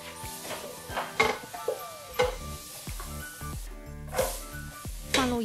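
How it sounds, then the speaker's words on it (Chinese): Butter melting and sliced onions being stirred in a pan while cooking side dishes for a Christmas roast chicken dinner, with a soft sizzle and several clinks and scrapes of a utensil against the pan, close and moderately quiet. "放入洋葱炒香"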